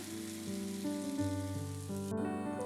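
Fried masala going into paya yakhni, a soft continuous sizzle and bubbling, steady and close, with a brief sharp clatter near the end, no talking.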